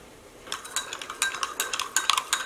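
Logwood and cutch botanical dye powder being stirred into boiling water in a pot, soft scraping and clinking of a utensil against the container, quiet and close, growing busier after a brief pause, with no talk.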